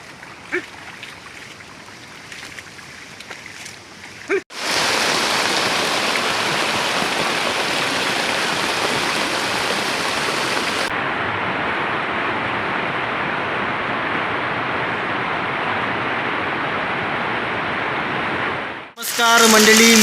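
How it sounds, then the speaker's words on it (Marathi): Heavy monsoon rain falls on rice fields in Konkan during planting season, a loud, steady, dense hiss that starts abruptly after a quieter stretch and holds for about fifteen seconds before cutting off. "जोरदार पाऊस भरलेला आहे आणि जोरात पाऊस पण जोरात पडतोय"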